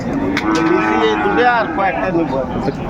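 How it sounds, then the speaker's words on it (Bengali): A Sahiwal bull at a cattle market in Ambari, Dinajpur lets out one long, loud, close moo that rises and falls, with people talking in the background. "এখানে গরুটি দেখছেন"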